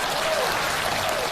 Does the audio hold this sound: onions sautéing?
no